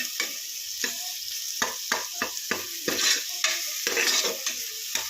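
Potatoes are stirred into tomatoes frying in oil for sambar. A spoon scrapes the pan in repeated, rhythmic strokes over a continuous close sizzle, with no speech.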